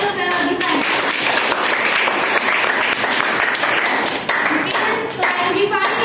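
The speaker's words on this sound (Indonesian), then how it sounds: "Oke, tepuk tangan dulu ke Giovanni." Students in a classroom clap for a classmate, loud and close and sustained, with voices calling out over the clapping.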